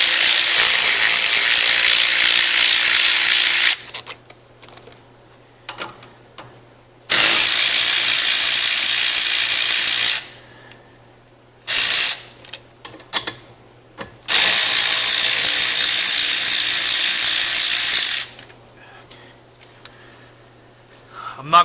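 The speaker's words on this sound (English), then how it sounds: "They take an 11mm deep well socket to get these 4 off." Ratchet driving an 11 mm deep well socket loosens the four bolts on a turbo being removed for a rebuild: three long, loud, harsh bursts separated by quieter stretches of scattered clicks and handling noise.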